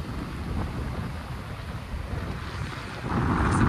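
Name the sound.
Pacific Ocean waves and wind on a narrow atoll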